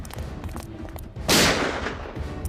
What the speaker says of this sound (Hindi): गोली चलने की आवाज आई।